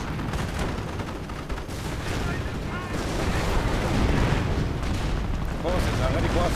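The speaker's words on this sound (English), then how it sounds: "Could be artillery." 25-pounder artillery guns firing in a video game, a dense rumble of distant booms and gunfire rolling continuously with talk over it.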